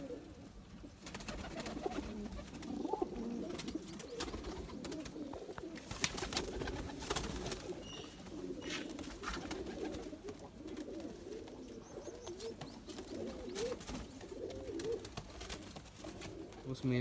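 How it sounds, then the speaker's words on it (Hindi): Male pigeon of a Zeera pair cooing in low, soft repeated calls, moderately close, with a steady murmur of other birds and background noise around it. "ये पेयर में से मेल कबूतर है।"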